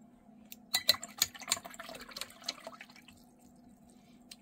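Soft drips and small splashes of water added to a watercolour paint mix, a handful of light taps clustered together, close and fairly quiet against a low steady hum.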